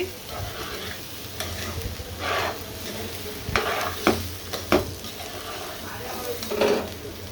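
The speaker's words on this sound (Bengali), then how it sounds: "দিচ্ছি কাঁচামরিচ কয়েকটা, আবার নেড়ে চেড়ে দিচ্ছি।" Green chilies sizzle steadily as they fry in a pan, with intermittent scraping and clinking as the mix is stirred, close and moderately loud with no talk.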